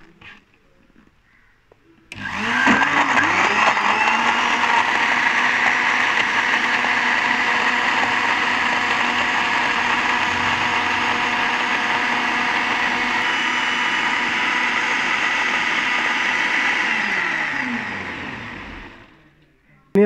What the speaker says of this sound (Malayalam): നമുക്കിനി ജാറ് നല്ല ടൈറ്റായിട്ട് അടച്ചിട്ടേ നല്ല ഹൈ സ്പീഡിൽ അടിച്ചങ്ങ് എടുക്കാം.